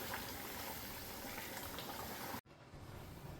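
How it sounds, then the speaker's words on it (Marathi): Mung bean curry bubbles at a boil in a pot, a close, continuous burbling that cuts out briefly partway and then resumes more quietly. "बघा आता भाजीला किती छान उकळी आली."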